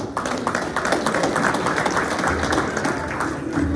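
A conference audience breaks into steady, dense applause that fills the space, continuous and loud for several seconds, welcoming presenters from Hero Industries to the stage at a morning corona event.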